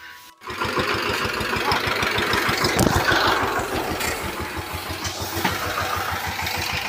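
A tractor engine idles nearby during the paddy harvest season, a steady low rhythmic chugging that kicks in after a brief pause and runs continuously.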